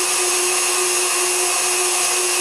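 A KitchenAid stand mixer with a grinder attachment runs continuously while grinding deer meat for jerky, a loud, steady motor whine with no breaks.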